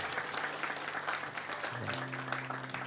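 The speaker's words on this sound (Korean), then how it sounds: "박수로 환영하겠습니다" A church congregation applauds to welcome first-time visitors during a Wednesday evening worship service, a steady, moderate wash of clapping in a large room with a soft sustained keyboard tone underneath.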